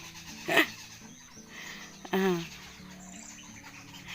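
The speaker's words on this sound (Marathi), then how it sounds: "पक्ष्यांचा आवाज बघा" Birds chirp in short, scattered bursts, with two sharper calls standing out against a low background hum.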